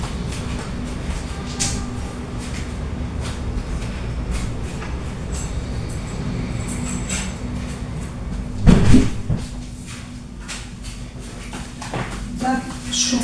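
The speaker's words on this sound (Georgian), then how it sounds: "კარი დავხურო და მოვა." A door is pushed shut indoors with one brief thud partway through, set against a steady low room hum.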